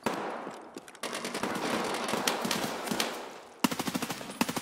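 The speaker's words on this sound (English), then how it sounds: "I'm getting shot at by something too" Gunfire in the Escape From Tarkov game: sustained automatic bursts with dense rapid shots, ending in a sharp run of evenly spaced, loud single reports close by, with no talk.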